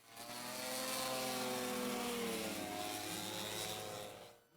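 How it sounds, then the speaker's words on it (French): A large-scale WWI fighter model plane with a JPX 320cc reduction-drive engine and a propeller over a metre across drones loudly overhead during a roll, heard from the ground as a steady buzzing roar that swells and then fades away. "apprécie la puissance du moteur JPX 320 cm3 réducté, un moteur Dual-M, qui entraîne une hélice de plus d'1 mètre de diamètre"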